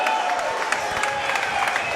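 Boxing arena crowd at a Dillon Jackson vs Joe Yates bout roaring and cheering after a punch combo, a dense, steady wash of noise with scattered claps throughout.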